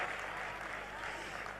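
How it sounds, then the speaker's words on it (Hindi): Applause from the audience at a Mumbai poetry show, a steady dense wash of clapping filling the whole moment without a break. "एक बार जोरदार तालियां दिनेश बावरा के लिए बजाइए।"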